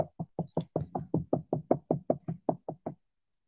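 Knocking on a door with the fingertips: about fourteen quick, evenly spaced taps in a steady rhythm, close and fairly soft, then silence.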